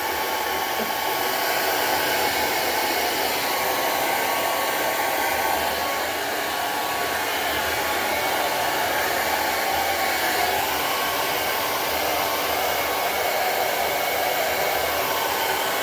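A hair dryer blows steadily on hair while it is being dried, a loud, constant airy roar that holds unbroken for the whole stretch with no voices.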